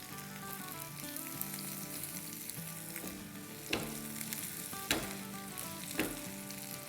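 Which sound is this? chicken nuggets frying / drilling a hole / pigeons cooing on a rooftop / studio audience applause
chicken nuggets frying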